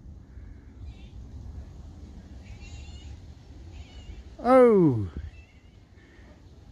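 A house cat lets out one loud, rising-and-falling meow close by, breaking through a quiet room where a person speaks briefly.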